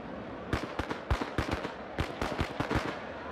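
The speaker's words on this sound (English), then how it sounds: "Let's throw some firecrackers at them then." Firecrackers thrown at rioters in the riot video game RIOT - Civil Unrest pop in an irregular string of sharp, crackling bursts, some clustered close together, moderately loud against a quiet background.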